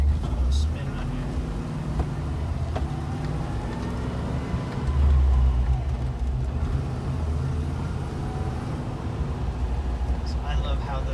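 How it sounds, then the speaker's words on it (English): A 1989 Land Rover Defender 90 drives steadily around a block, its engine and drivetrain droning low with a faint rising gearbox whine threaded through the road rumble, close and continuous throughout. "So I love how the transmission sounds on these vehicles. A little bit of that whine."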